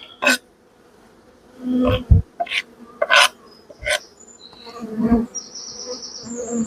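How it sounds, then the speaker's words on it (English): Honeybees buzzing close by around an opened hive, with scattered knocks and scraping handling noises and a few brief higher whines. "I'm going to just be very careful with these bees on here"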